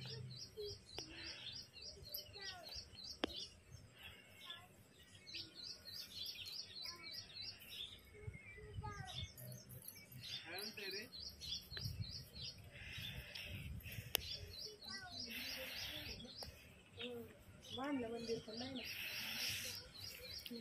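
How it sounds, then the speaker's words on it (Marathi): Morning birdsong from many birds chirps and calls steadily in the background at a temple visit, with a continuous mix of trills and tweets heard over low outdoor noise. "सकाळची वेळ आहे त्यामुळे पक्ष्यांचा एकदम मस्त असा किलबिलाट मागे ऐकू येतोय."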